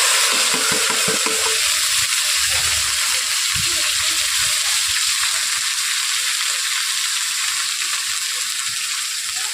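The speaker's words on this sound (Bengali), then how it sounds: "পেঁয়াজ, আদা, রসুন, টমেটো একসঙ্গেই দিয়ে দিচ্ছি।" Grated onion, ginger, garlic and tomato fry in a pan with a loud, continuous sizzle and some brief scraping at first.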